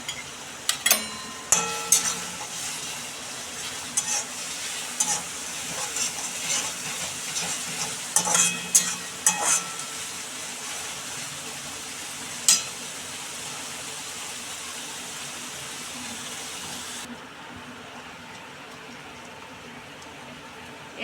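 Ginger-chili paste sautéing in a pan toward golden brown, a soft continuous sizzle broken by scraping spoon strokes and a few sharp clinks, close but moderate, with the sizzle fading quieter near the end.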